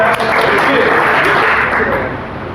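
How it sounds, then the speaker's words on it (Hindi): Loud, close applause from an audience at a Hindi-language community meeting, dense continuous clapping that fills the clip and eases slightly near the end. "हाथ उठा के और ताली बजा के स्वागत करें।"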